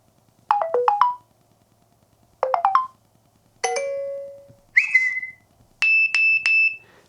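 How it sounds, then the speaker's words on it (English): A Vivint Outdoor Camera Pro 3 plays a series of deterrent alert sounds: quick rising chirp bursts twice, a falling siren-like tone, a short buzzy blast, then three sharp whistle-like beeps, each loud and separated by brief silences. "you have all these sounds that once you hear them, you'll probably know who has a Vivint camera"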